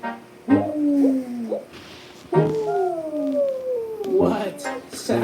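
A voice imitates an owl with a few long, gliding hoots, each drawn out and falling in pitch, close and fairly loud, separated by brief pauses.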